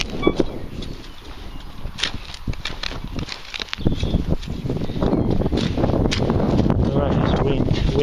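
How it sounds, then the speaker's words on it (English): Gusty wind buffets an outdoor microphone with steady low rumble, growing stronger in the second half, while someone talks over it. "Windy here, I apologise."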